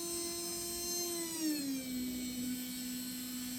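A brushed electric motor for racing spins at about 20,000 RPM, giving off a steady, close, high-pitched whine whose pitch dips slightly partway through and then holds level.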